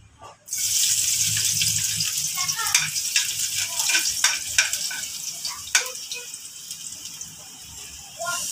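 Garlic hits a hot pan and immediately breaks into a loud, steady sizzle, with stirring clicks and scrapes as it fries, cooked as the start of Bisaya-style chicken feet humba.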